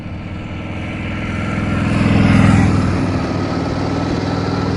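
A 1931 Indian 101 Scout motorcycle engine runs steadily nearby, a loud, even throbbing idle that swells slightly in volume midway before settling back.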